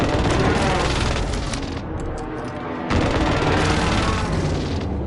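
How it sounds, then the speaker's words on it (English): Precision airstrike explosions in Call of Duty Warzone, loud heavy blasts and rapid booming bursts rolling on, a brief dip in the middle before another strong wave of explosions. "Well, there goes my airstrike."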